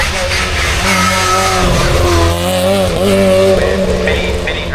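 A classic Mini, a race car under the original body shape, accelerates away at the Prescott speed hill climb during a Mini festival. Loud, close engine roar with clear harmonic pitch rises, heard alone without talk.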